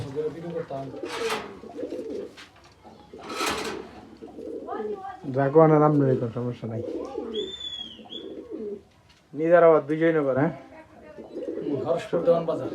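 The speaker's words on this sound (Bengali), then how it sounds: "এটা অনেক সুন্দর কবুতর" Pigeons in a loft of high-flying birds coo repeatedly, close and fairly loud, in throaty rolling bursts, mixed with brief wingbeats and people talking nearby.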